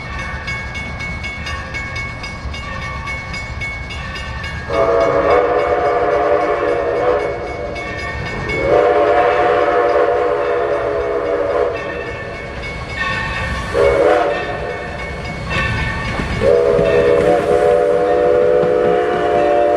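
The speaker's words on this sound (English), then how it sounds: "3025 is hauling its train back to Essex Station." A steam locomotive, 3025, hauls a passenger train steadily along with continuous rumble, and a loud whistle sounds in several long blasts, close by, with no talking.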